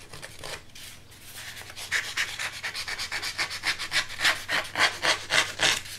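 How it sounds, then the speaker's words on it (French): Wood being scraped and roughened by hand to give it a worn, aged look, a steady run of close rasping strokes that grows louder and more rhythmic as it goes, with no voices. "Même en enlever des petits bouts et regratter pour abîmer comme si ça avait vécu"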